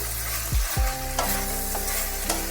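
Shim mourola, a small fish dish with flat beans and coriander, being stirred in a pan, with a couple of scraping strokes over a steady frying sizzle and a few light clinks of the utensil.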